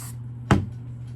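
A single short hiss from a spray can aimed at paper stabilizer for hat embroidery on a Brother PE800, close and brief, over a low steady hum.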